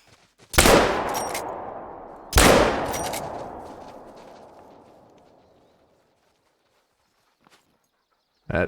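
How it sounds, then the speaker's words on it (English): Two booming 10 gauge shotgun blasts in the hunting video game Hunter: Call of the Wild fire a couple of seconds apart, each rolling off into a long fading echo, followed by quiet. "We'll take this guy with a shotgun, why not?"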